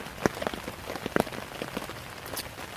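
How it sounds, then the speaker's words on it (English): Rain pattering steadily on a USGI bivvy bag at a wild camp in a rainstorm, with irregular close drops tapping the fabric over a constant hiss, no voices. "It's raining, it's pouring."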